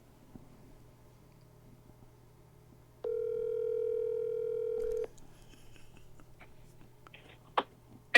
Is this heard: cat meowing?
no